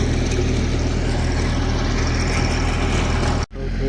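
Tractor engine running while working a threshing floor: a loud, steady low-pitched mechanical drone with a throbbing hum, cutting out abruptly near the end before a faint return.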